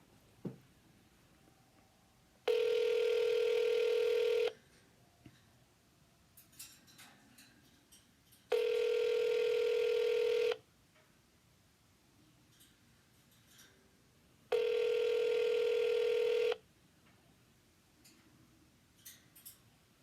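Three long, even electronic ring tones sound at regular intervals while a phone call is transferred, each tone lasting about two seconds with quiet line noise between.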